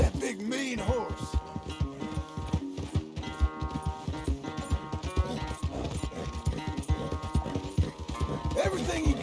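Horse hooves clip-clop in a steady rhythm with occasional snorts and neighs in the video game Red Dead Redemption 2, loud and close, set against a busy layered background.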